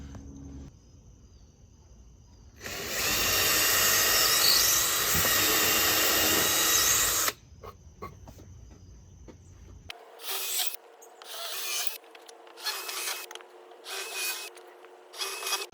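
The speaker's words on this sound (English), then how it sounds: "I'll drill the countersunk hole for the screws to sit in" A loud, steady whirring drill bores a countersunk screw hole into a wood board for several seconds, then stops; quieter scraping and clicking handling noises follow.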